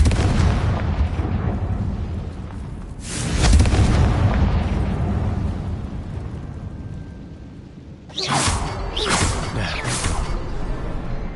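Confringo blasting spell explosions in Hogwarts Legacy: a booming whoosh and blast, then three quick repeated bursts later, loud and close over a steady game-ambience background, without speech during the blasts.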